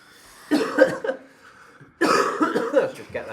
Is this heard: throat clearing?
yes